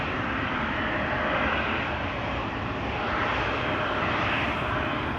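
A Boeing 777 jet heading to Cape Town departs Amsterdam Schiphol Airport, its engines a steady, broad roar heard from a distance that stays constant and rumbling, with no voices.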